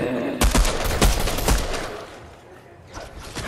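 Automatic gunfire in Fortnite: loud, close bursts of rapid shots in the first second and a half, then quieter scattered fire as the action moves on.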